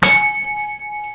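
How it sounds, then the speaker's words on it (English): A club bell is struck once, giving a bright metallic clang that settles into a sustained ringing tone with clear overtones, slowly fading over about a second, close and loud. "We have a club bell somewhere. I rang it."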